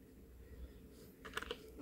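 Computer keyboard typing as an address is entered into a form, a short cluster of faint, quick key taps near the end after a quiet stretch, with no talking.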